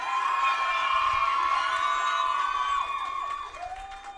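Gala audience cheers loudly with high-pitched shouts and whoops, a sustained excited crowd that thins and fades toward the end.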